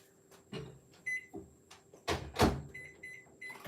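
A microwave oven melting chocolate in a home kitchen runs with a steady hum, broken by a few soft knocks and clunks of the cupboard or door.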